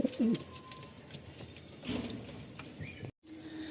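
Roller-breed pigeons cooing in a loft at feeding time, with a few soft throaty coos near the start and middle over quiet background rustle, no talking.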